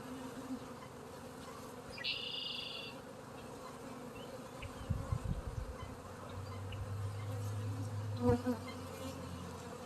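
Honey bees buzz around an open hive during an inspection, a steady low drone with a few louder passes close by and a brief higher whine, alone with no talking.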